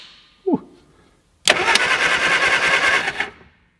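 A rusty Mini's engine cranks and catches after a short click, then runs loud and close with a steady rough roar for nearly two seconds before cutting off.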